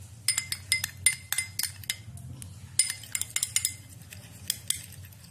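A spoon mixes a homemade face pack in a small bowl, producing a quick irregular series of bright metallic clinks and taps, close and crisp, with quiet pauses between bursts.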